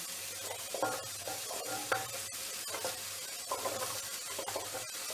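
Vegetables fry with softened onions in a pan, giving a steady crackling sizzle under repeated stirring scrapes and a low periodic hum, all fairly quiet and close.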